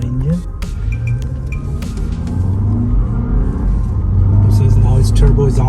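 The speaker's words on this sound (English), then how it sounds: "We can go straight up the hill and show you the power of the engine." A turbocharged Lexus NX200t climbs a hill under acceleration, its engine drone rising steadily in pitch and loudness beneath someone talking inside the cabin, with occasional faint clicks.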